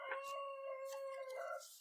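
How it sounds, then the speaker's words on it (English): A wild chicken crows in the Black Powder tabletop campaign, a drawn-out harmonic call with a warbling, howl-like tone. It holds steady for nearly two seconds at moderate volume, sounding somewhat distant, with no talking over it. "Hey, I just heard a wild chicken."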